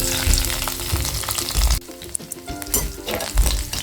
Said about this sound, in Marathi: तेल गरम झालं की पाच ते सहा ठेचलेली लसूण घालायची आहे आणि एक हिरवी मिरची